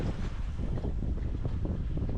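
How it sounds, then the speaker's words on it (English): Sailboat under sail with the engine off after running out of diesel, steady broadband wind and water rush with microphone buffeting, continuous and close, no voices. "The engine is off and we are sailing, which is rather nice."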